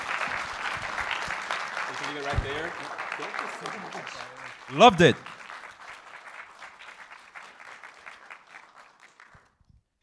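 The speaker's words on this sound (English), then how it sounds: "Devine Lu Linvega, everybody. Big round of applause." Audience applause fills the room after a talk at the Handmade Seattle 2024 conference, steady and dense at first and then thinning out, with a host speaking over it and a brief loud burst near the middle.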